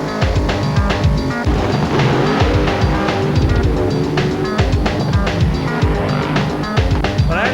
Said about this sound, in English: Robinson seems to be just out in front, but Dave Walton motors past at the top end